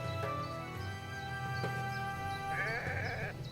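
A sheep bleats in the video game Renowned Explorers, a single wavering bleat rising over steady background music, moderately loud and close.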